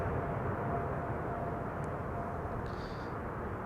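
A 13-year-old Boeing 747-8 freighter arriving at Amsterdam Schiphol sends a broad, steady jet roar from some distance, continuous and even throughout.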